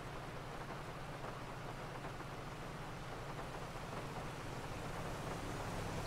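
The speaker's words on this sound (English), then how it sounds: "Just this fucking rain, man." Heavy rain pours down in a steady, dense hiss at even, loud volume throughout, with a faint low rumble beneath that suggests distant thunder.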